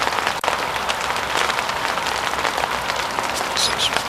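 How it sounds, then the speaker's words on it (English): Hailstones falling outdoors by a lake, a dense, continuous pattering and crackling across a hard surface at steady loudness, heard close with no voices. "after the sun this morning, it's now hailstones"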